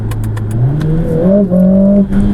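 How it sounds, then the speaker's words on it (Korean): Mercedes-AMG CLA 45 S 4Matic+ exhaust in sport mode, a loud steady engine note that climbs in pitch as it accelerates, with a brief dip partway through and no talking. "이렇게 울려 퍼지는 이 배기 사운드의 매력은 정말 이 동급의 퍼포먼스 모델 중에서 쉽게 찾아볼 수 없는"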